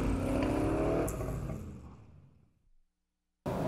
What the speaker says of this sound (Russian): Так, ну теперь посмотрим, как ты припаркуешь машину